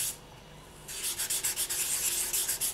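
Polymer clay earrings are sanded by hand with 1200 grit sandpaper, a soft hiss at first and then a steady, close rhythm of about a dozen quick back-and-forth rubbing strokes.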